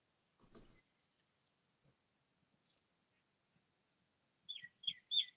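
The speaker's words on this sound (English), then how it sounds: "I hear birds chirping" Birds chirping outside, faint and distant: a brief muffled noise early on, then a quick run of three or four high chirps near the end over near silence.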